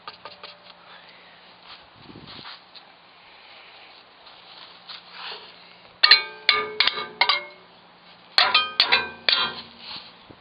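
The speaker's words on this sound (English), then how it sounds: "I'm gonna tap it with a hammer" Sharp metallic taps in quick bursts, a hammer striking car body metal several times during rust repair after a quieter stretch of faint handling noise.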